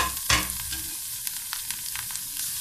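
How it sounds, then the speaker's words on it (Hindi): Spinach and tomato sauté in a hot pan for a keto breakfast, giving a steady close sizzle with the scrape and clatter of stirring, one louder stir near the start. "इसको सौते कर लेते हैं"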